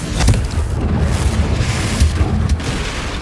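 Confringo fire spell explosions in Hogwarts Legacy, a loud run of booming blasts with sharp bursts near the start and again toward the end over rumbling low noise.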